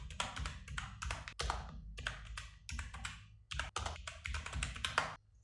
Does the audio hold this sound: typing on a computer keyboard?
yes